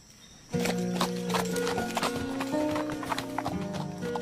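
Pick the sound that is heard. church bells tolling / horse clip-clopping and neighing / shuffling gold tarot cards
horse clip-clopping and neighing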